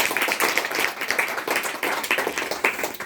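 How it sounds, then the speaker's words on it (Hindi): An audience at an indoor talk claps loudly together, a dense, continuous burst of hand claps heard close and steady throughout. "सब लोग एक जोरदार ताली अपने लिए बजा लीजिए।"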